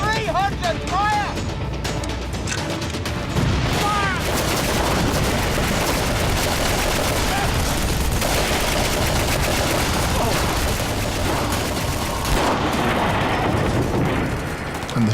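Dense, continuous artillery gunfire and booming blasts in desert warfare roll on without pause, loud and chaotic, with shouted voices briefly heard early on.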